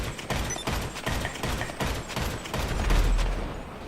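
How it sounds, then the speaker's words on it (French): A sniper rifle firing in bursts in the video game GTA V Online, rapid, loud cracking shots in repeated clusters that carry straight through, with no talking. "lui, il a un avantage, ce qui est il tire en rafale"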